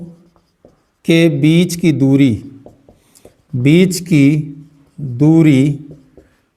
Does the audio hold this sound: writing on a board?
yes